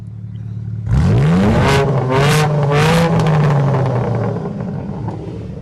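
A sports car at a hillclimb event, heard at the exhaust, fires up and revs hard with three sharp throttle blips over a sustained loud, close engine drone that settles back to idle.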